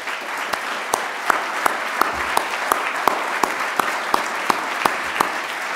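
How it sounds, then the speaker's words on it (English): An audience applauds board members of the Roy Chapman Andrews Society at an event in Beloit, with dense, even clapping filling a room throughout and a few sharper individual claps poking out. "if everyone could rise and take a round of applause."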